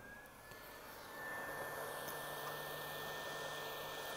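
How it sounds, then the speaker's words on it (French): A heat tool blows hot air onto the label of a Pokémon Blue game cartridge to loosen it for peeling, a steady close whooshing roar with a constant high whine that grows slightly louder after the first second. "On va prendre le décolle étiquette et on va venir chauffer l'étiquette."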